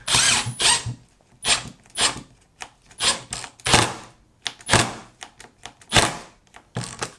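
A power drill drives screws into a floor pump base in a string of short, loud whirring bursts separated by brief pauses, close up with no talking.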